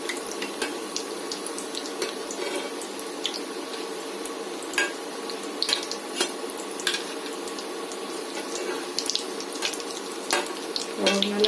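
Homemade chicken nuggets fry in a pan with a steady, close, crackling sizzle that runs throughout, broken by a few small pops.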